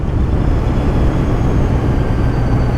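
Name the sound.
motorcycle engine bogging on a steep turn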